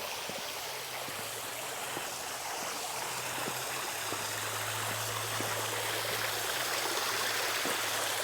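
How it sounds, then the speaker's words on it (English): Water runs steadily over rocks in a landscaped rock garden water feature beside a pool area, a continuous trickling, splashing stream heard close and alone throughout. "you want to hear the sound of running water?"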